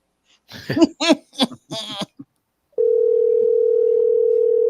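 A telephone dial tone, a steady continuous hum, comes in suddenly and holds loud and alone after several coughs and throat-clearing sounds.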